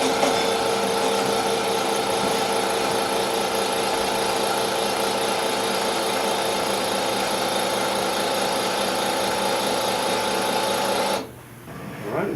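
Indelac fail-safe valve actuator motor running steadily with a constant mechanical whine and hum for about eleven seconds, close and loud, then stopping abruptly at the open position.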